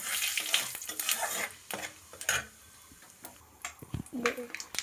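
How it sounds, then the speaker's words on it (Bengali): Bay leaves and cumin frying in oil in a pan, with soft sizzling and intermittent scraping and stirring clatter, close and fairly quiet. "তেজপাতা দিয়ে দেবো আর দিয়ে দেবো জিরে, দিয়ে একটু ভেজে নেব।"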